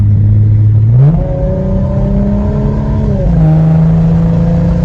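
Engine of a 2005-09 Ford Mustang revving up loudly and steadily, its tone rising sharply around one second, holding, then dropping slightly near the end, close and continuous with no talk.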